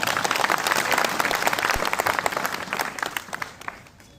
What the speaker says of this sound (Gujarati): એ બધા માટે જોરથી તાળી થઈ જાય.